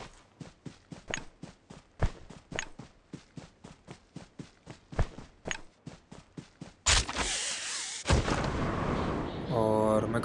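Gunfire in a mobile shooter video game played on an iPad 9, a rapid series of sharp, regular shots with brief pauses, then a dense burst of heavier noise near the end, loud and close.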